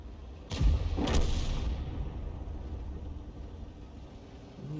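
Tank cannon shell fired in a tank battle video game, a heavy boom with a second blast following within a second, then a rumbling low tail fading under steady engine drone.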